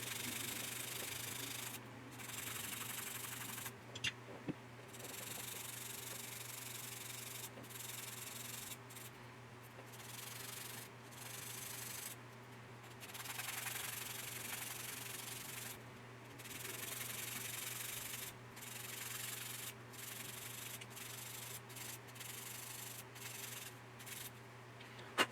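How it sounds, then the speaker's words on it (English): Continuous coarse sander rubbing over plastic parts of a 1/35 scale Kitty Hawk MH-60J/T Jayhawk helicopter model, steady close scraping strokes with brief pauses between passes, under a constant low hum. "now we are going to grab our coarse sander. And we're going to take care of all this detail."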